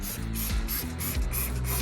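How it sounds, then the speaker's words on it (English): Foaming cleaner hisses from a spray bottle onto Jeep WJ Grand Cherokee seats, sent out in several short, close, loud bursts with no talking. "I'm gonna spray it on the seats,"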